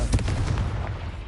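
A Confringo spell blast in Hogwarts Legacy gives a short, heavy booming burst with rumbling low end, loud and close, fading over about a second.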